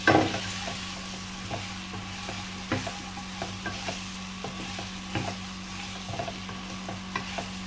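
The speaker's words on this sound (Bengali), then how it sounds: "এবার এটাকে ভালো করে নেড়ে নিতে হবে।" Sweet-sour-spicy mango pickle being stirred in a pan with black salt added, a spoon scraping and knocking against the pan in irregular strokes over a soft sizzle and a steady low hum.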